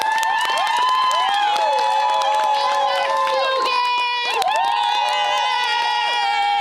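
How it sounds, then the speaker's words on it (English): A live audience cheers and claps continuously and loudly, with many high excited shouts and squeals filling the whole stretch and a brief dip before the noise surges again. "Please give a big round of applause to Gracie Green."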